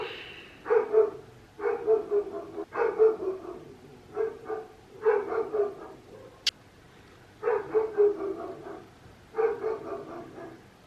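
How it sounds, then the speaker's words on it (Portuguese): A neighbour's dog barks repeatedly in short bursts of several barks each, moderately loud and somewhat distant, with a brief sharp click partway through. "Este cão do vizinho está sempre a ladrar quando eu gravo."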